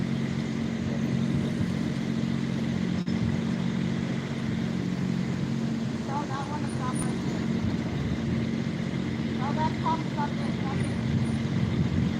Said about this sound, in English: Here comes the other vehicle.